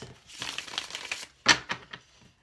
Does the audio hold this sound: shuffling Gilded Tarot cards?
yes